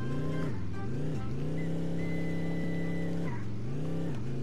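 A car in the video game Guts and Glory drives and revs, its engine droning steadily with pitch dips and rises as it shifts and accelerates, loud and close throughout.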